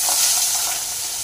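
Pabda fish frying in hot oil with turmeric, a loud, close, steady hiss and crackle of sizzling that fills the whole moment without any voices.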